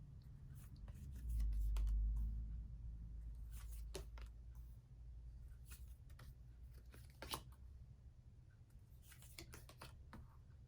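Concordia board game cards are flipped over and set down on the board one after another, as soft papery flicks and light taps that come close and quiet over a low hum.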